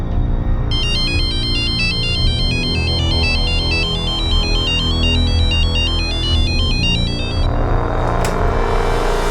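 A phone ringtone plays a repeating electronic melody for several seconds, loud and steady over a low background hum, stopping near the end.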